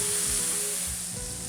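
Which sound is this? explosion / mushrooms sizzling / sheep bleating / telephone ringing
mushrooms sizzling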